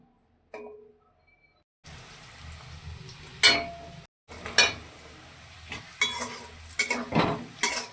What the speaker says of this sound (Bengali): কড়াইতে তেল গরম করে প্রথমে ক্যাপসিকামগুলো দিয়ে দিচ্ছি ক্যাপসিকামগুলো হালকা ভেজে তুলে রাখবো